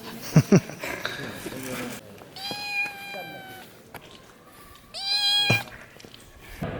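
A cat meows several times near a canyon by Petra, drawn-out tonal cries at moderate distance, with short bursts of sound and a voice in between.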